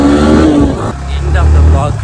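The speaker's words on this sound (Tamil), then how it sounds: "புல்லட் வண்டி." A Bullet motorcycle engine rumbles loud and near in a low, steady throb, with a voice talking over it.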